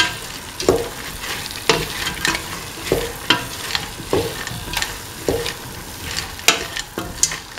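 Green peas, cauliflower and carrot sautéed in a pan, a constant close sizzle broken by repeated sharp scrapes and clacks of a spoon stirring in an uneven rhythm, with no voices.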